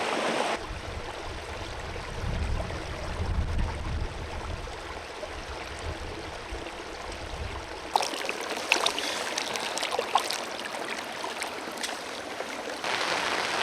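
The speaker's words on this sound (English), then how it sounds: "Got this beautiful little creek right beside my tent." Steady broadband rush of a small creek flowing nearby, continuous with no talk, shifting slightly in texture partway through.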